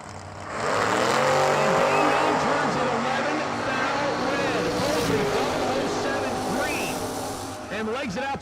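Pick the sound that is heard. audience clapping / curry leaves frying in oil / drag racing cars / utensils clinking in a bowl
drag racing cars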